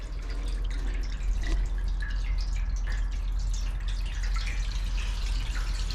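Water drips and trickles out of a seized Cadillac V8 engine on a farmer-built airboat, a steady run of close, faint drips over a low background hum.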